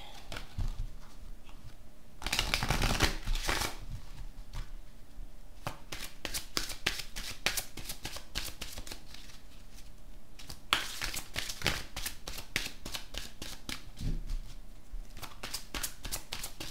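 Deck of cards shuffled repeatedly for a tarot-style reading, crisp riffling bursts and rapid flicking clatter in close, steady sequences with short pauses, no talking.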